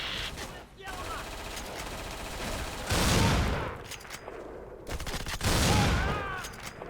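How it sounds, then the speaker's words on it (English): Spas-12 shotgun firing in the 2006 Xbox shooter Black, heavy booming blasts with rattling echoes and gunfire bursts layered over game noise, while a player talks over it. "Shotgun is very satisfying."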